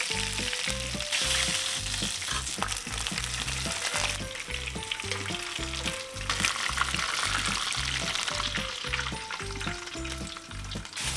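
Beef or mutton sizzles in a pan with added oil for a curry, a steady close frying hiss running throughout with no voices.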